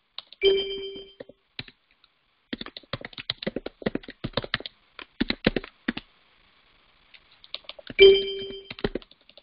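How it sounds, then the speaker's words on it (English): A bell rings out twice during an online programming session, each strike a sharp, near ring with a long shimmering tail, first near the start and again near the end, with soft keyboard typing and tapping in between. "Sorry about the bell, by the way."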